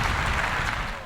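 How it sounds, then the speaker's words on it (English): Short burst of applause and clapping aboard a deep-sea fishing boat off the coast of Samara, Costa Rica, dense and steady, with no voices over it. "Round of applause."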